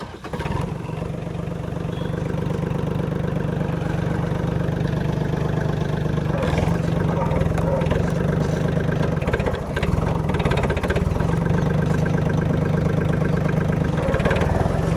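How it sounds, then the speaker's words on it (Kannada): A Swaraj Target 630 4x4 mini tractor engine starts up and settles into a steady, low diesel idle, a continuous throbbing rumble that runs close and loud for around fifteen seconds with no speech over it. "ಗಾಡಿನ ನ್ಯೂಟ್ರಲ್ ಮಾಡ್ಕೊಂಡೆ ಗಾಡಿನ ಸ್ಟಾರ್ಟ್ ಮಾಡಬೇಕಾಗತ್ತೆ"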